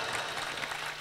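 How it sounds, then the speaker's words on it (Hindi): A crowd claps loudly at a live Rajasthani stage show featuring a woman magician and folk artists: a thick, sustained burst of many hands, close and even, with no speech over it. "फिर तो एक बार जोरदार तालियां होनी चाहिए"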